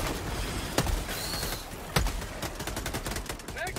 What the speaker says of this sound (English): Oh, a breach action shotgun. Or break action, sorry, not breach.